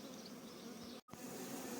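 Honey bees buzzing at beehives during treatment against mites, a close, steady drone broken by a short dropout in the middle.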